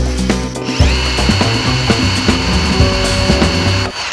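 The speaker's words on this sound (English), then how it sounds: "Only the Fine and the DeWalt can drill a 1mm hole." A power drill whines at a steady high pitch, drilling a hole in steel with a loud grinding chatter that runs continuously before cutting off at the end.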